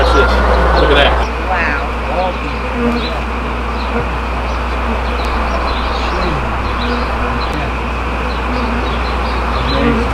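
Bees swarming around a hive built inside a children's playhouse, a dense, steady buzzing drone that stays close and continuous throughout.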